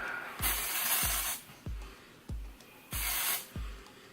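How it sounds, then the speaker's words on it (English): A pump bottle of heat protectant is sprayed onto hair in about six quick, close bursts, each a short hissing puff with a small click, at an uneven pace. "So I always just spray this all over my hair."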